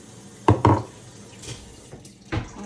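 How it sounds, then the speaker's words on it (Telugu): Lukewarm water is poured into a bowl while making breakfast, heard as a few short splashy bursts separated by quieter gaps. "ఇందులో కొంచెం నేను నీళ్ళు యాడ్ చేస్తున్నాను."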